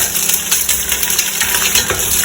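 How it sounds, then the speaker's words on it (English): Onions and garlic frying in a pot while being stirred, a close, loud sizzle with scraping and clinking of the spoon against the pot. "Just going to give my onions and garlic a good stir"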